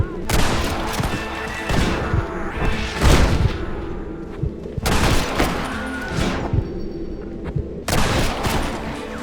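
Sustained shootout from the Red Dead Redemption video game, with dense volleys of rifle and pistol shots crackling in bursts through the whole stretch, peaking in heavy clusters, with shouted commands mixed in among the fire.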